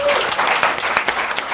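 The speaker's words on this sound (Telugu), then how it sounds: "క్లాప్స్." Audience applause on a light-hearted guessing game show, a brief burst of close, dense hand clapping with a voice speaking over it.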